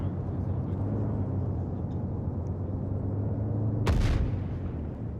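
A mortar round lands nearby in the Arma 3 military simulation, a single sharp distant crack followed by a short low rumble, rising over a steady background drone and wind.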